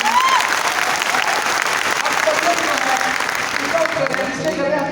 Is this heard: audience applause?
yes